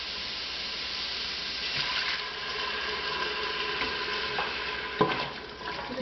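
Soft sizzling and scraping as sweet potato, rice and vegetables are stirred in a hot pot, a steady low hiss with a few louder clinks and scrapes near the end.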